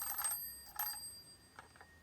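A toy telephone rings in short electronic trills, two bursts close together then fainter ones, with a thin bell-like tone over a quiet room.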